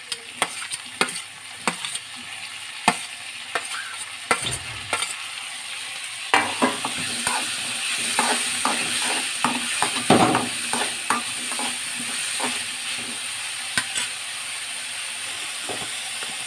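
Chopped tomatoes fry in a hot pan with a loud, continuous sizzle and hiss. A spoon scrapes and stirs repeatedly throughout, sounding close, with no talking.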